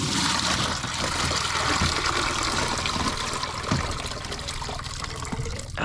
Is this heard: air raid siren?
no